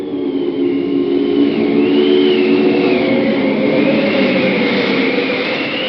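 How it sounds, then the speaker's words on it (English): Loud, steady roaring rush of strong gusting wind blowing continuously with a shifting whistling tone, sustained throughout without pause, in a radio drama. "what force the wind can get up in a few minutes. What a tremendous gust."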